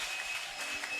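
A church congregation claps and cheers to acclaim the Lord, a dense wash of applause with a faint sustained tone beneath, steady and unbroken.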